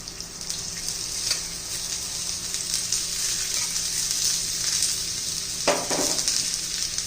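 Stuffed colocasia leaf rolls shallow fry in oil with a steady, close crackling sizzle throughout, a few sharper spatters and a brief louder burst near the end.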